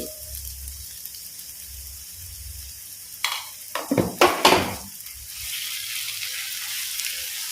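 Spice masala frying in oil for fish idli, a quiet hiss broken midway by a burst of spoon scraping and clattering against the pan, then a steady sizzle resumes.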